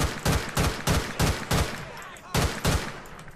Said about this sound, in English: We got shots fired, we got shots fired.